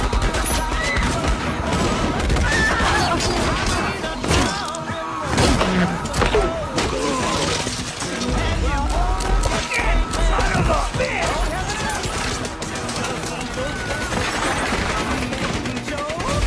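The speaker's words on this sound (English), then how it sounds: "All the shooting." Gunfire from a Quentin Tarantino movie shootout scene: dense, continuous bursts of shots and crashes mixed with a loud film soundtrack, steady and intense throughout with a short lull midway.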